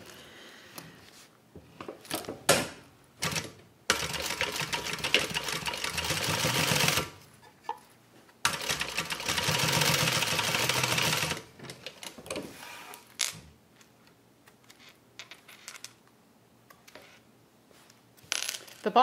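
A sewing machine stitches a quarter-inch seam on a zipper pouch, running in two long loud bursts of several seconds each, separated by short pauses filled with clicks and handling noises.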